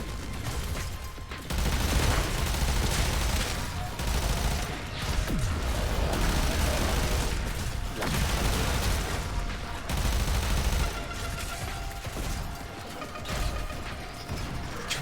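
Sustained heavy weapon fire in the sci-fi shooter Warframe, long dense bursts of rattling shots and mechanical clatter, loud and close, broken by brief pauses between volleys.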